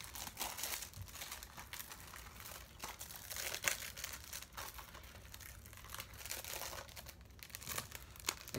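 Plastic packaging on a Blu-ray case crinkles and tears up close in quiet, irregular bursts of rustling and crackling, with no talking.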